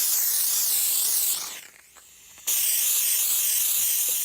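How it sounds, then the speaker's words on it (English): A steamer hisses loudly and steadily on a Ferrari 308 trunk cover, cuts out briefly to a faint hiss, then blasts back at full strength, with no talk. "the way we're going to get rid of that is with steam, the magic weapon"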